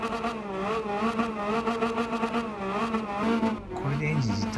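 Honda Beat engine with a racing muffler in Gran Turismo 7, revving steadily with a rising and falling tone, loud and close, ending in a lower, softer rev.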